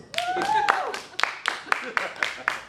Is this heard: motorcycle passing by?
no